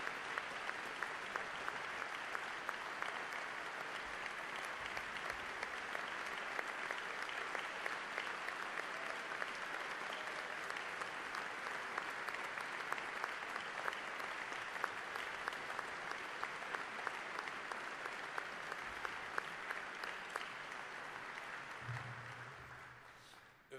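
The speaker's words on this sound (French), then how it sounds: "nous pouvons presque en conclusion leur donner une chaude main d'applaudissements encore une fois" Steady, sustained applause from a large audience at the 2015 Montreal International Music Competition awards ceremony, dense clapping continuing throughout before fading out at the end.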